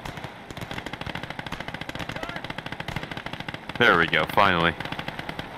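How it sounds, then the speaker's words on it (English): Rapid machine-gun fire in a World War combat video game (USA Conquest), dense repeating bursts throughout with a louder, closer burst near the end, while players talk over it. "that MG's just tearing through this one to try and take him down"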